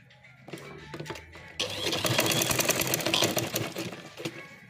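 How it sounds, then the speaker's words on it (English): Sewing machine stitching a trouser waistband, a steady mechanical whir that starts in short bursts and then runs continuously and fairly loud up close. "Start sewing."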